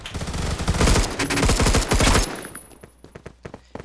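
An M16A3 firing bursts in the video game Phantom Forces, with rapid, loud shots packed together for about two seconds, then sparser single cracks and clicks trailing off.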